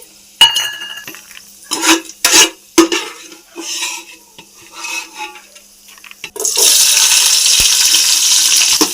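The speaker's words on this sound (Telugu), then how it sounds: "ఈ గుమ్మడి గింజలు, ఈ సన్ఫ్లవర్ గింజలు వేసేసుకున్నాం. ఇప్పుడు వేగిపోయినాయి." Pumpkin and sunflower seeds frying in a pan give a few scattered spoon-and-pan clinks and stirring scrapes, then a loud, steady sizzle-like hiss that holds from about two-thirds of the way through to the end. No one speaks.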